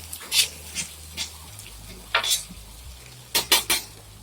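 Potatoes and bell pepper fry on a flat top griddle with a low steady sizzle, broken by several sharp scraping and clattering strokes of a metal spatula against the hot surface.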